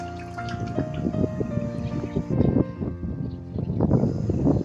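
Liquid fungicide glugs and splashes as it is poured from a bottle into a container of water for treating ginger crops, an uneven run of close gurgles and drips.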